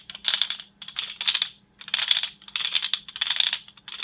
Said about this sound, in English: I also have a special instrument here that makes a nice rattling sound.